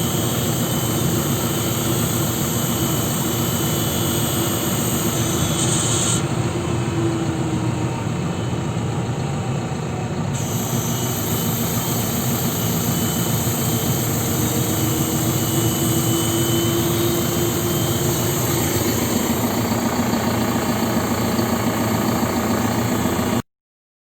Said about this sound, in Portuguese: Agora eu vou fazer a mudança no trator, no ajuste do trator, só para mostrar a vocês a variação que pode ser feita e realizada no vácuo